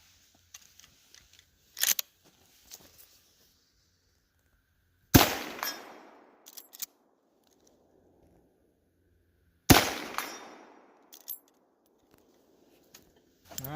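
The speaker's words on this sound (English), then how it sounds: "So let me hit that steel back there at 100 yards real quick" A scoped .30-30 rifle fires at a steel target 100 yards away: two loud, sharp reports with ringing, echoing decays, several seconds apart, plus a fainter crack earlier and small clicks between.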